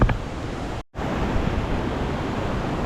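A river runs along its rocky bed on a hiking trail, a steady broadband rush heard close by, with one short cut in the middle.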